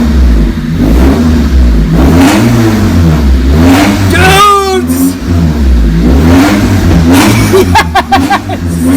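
A Honda Civic EG with a D16Y8 engine revs loudly and repeatedly, the pitch climbing and falling in several close bursts. Rattly engine drone fills the whole stretch, with a brief higher whine near the middle.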